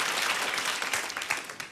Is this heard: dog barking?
no